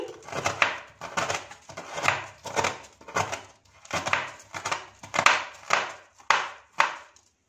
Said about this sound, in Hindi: इसे भी बारीक कश कर लेंगे।